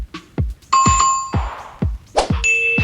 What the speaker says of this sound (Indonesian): klik gambar lonceng